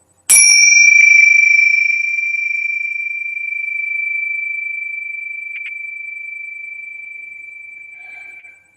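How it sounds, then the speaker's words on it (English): A single bright bell strike rings out clearly and sustains a long, pure tone that slowly fades over several seconds, with no voices. "let's ring the peace bell"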